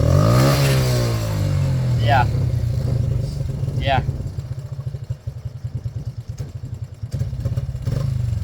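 A Yamaha 80cc four-wheeler with a newly installed carburetor and battery idles with a steady low putter. It gives two quick throttle blips that rise and fall, and a person says a brief word.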